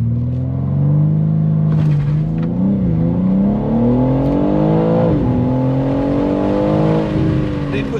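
A BMW M3 Competition xDrive accelerates hard on the road, its engine note rising loud and steady through several gear changes, heard close from inside the car with no talking.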